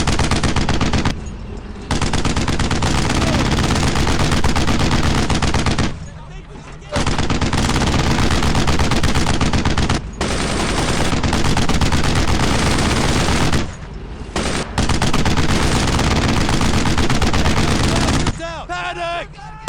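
Sustained bursts of machine-gun and rifle fire from the World War II shooter Brothers in Arms: Earned in Blood, loud and nearly continuous with brief lulls, under shouted talk and battle noise.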